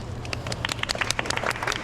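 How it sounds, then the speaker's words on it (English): Walking tour group in central Medellín, Colombia applauds their guide outdoors, a short burst of scattered, uneven clapping from a small crowd, fairly close and clear. "And the applause is for you guys."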